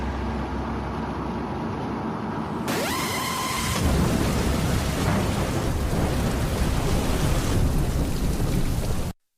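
Heavy rain pours from tropical depression Nana over Huehuetenango, Guatemala, with a rumble of thunder. After a brief lead-in, a dense, steady downpour fills the scene close by.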